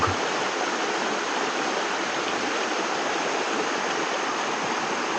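A river flows right beside a nature campsite in Liliw, Laguna, a steady, close rushing of water with no breaks and no voices.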